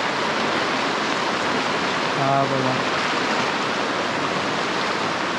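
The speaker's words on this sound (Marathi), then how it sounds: "किती पाणी जातं बघा." A monsoon-flooded river in Konkan after heavy rain, rushing water as a loud, unbroken roar that fills the whole clip, with someone briefly speaking over it.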